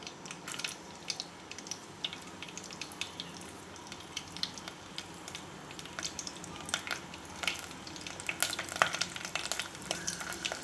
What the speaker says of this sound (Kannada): ಚೆನ್ನಾಗಿ ಸಿಡಿಲಿ.